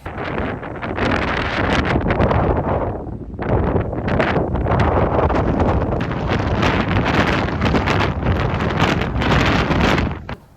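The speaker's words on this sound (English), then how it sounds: "I think you can hear how windy it was" Strong gusting wind roars and buffets the microphone loudly and almost without pause, briefly easing once before surging back.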